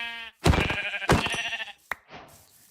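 Sheep in the video game Minecraft bleat in close, loud bursts, with two or three wavering baa calls separated by short pauses and no talk.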